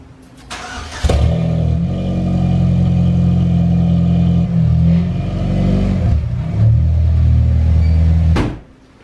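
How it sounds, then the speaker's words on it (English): A project car with an oil-burning problem starts and revs up close, holding a loud, rumbling engine note with a couple of throttle swells before cutting off abruptly near the end. "So I'm gonna pull my car in here"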